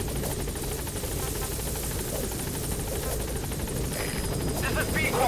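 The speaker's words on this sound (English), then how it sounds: "Support helicopter has arrived." A support helicopter arrives in Metal Gear Solid V: The Phantom Pain, its rotors chopping in a loud, continuous, rhythmic roar. A radio voice speaks over the engine noise.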